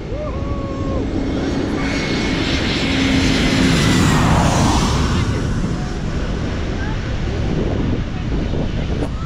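A jet airplane roars overhead on takeoff above Mai Khao beach in Thailand, swelling loud and close near the middle and then fading, with strong wind buffeting the microphone and surf beneath.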